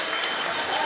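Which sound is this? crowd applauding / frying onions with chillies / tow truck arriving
crowd applauding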